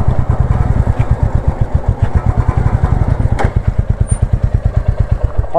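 A motorcycle engine idles close by with a rapid, even, loud thumping beat after starting for a ride from Devkund in Simlipal, Odisha; no talking.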